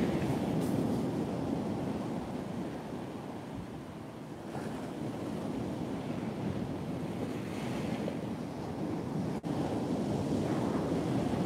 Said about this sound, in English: can see how windy it is. It's actually blowing the camera around